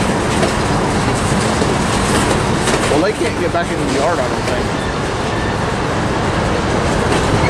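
A freight train led by 70M and EC4400 locomotives rolls past in Commerce, California, with loud, continuous rumbling and clattering of wheels and cars close by. A person talks over the train noise.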